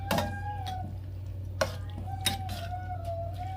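Food is stirred in a pan during weeknight dinner cooking, with a few sharp utensil scrapes and clinks against the pan over a faint steady hum.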